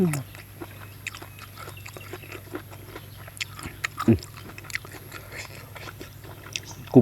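Close, crunchy chewing of cooked golden apple snails with dipping sauce, irregular crisp bites and soft mouth sounds, quiet and intimate, with a faint steady hum underneath.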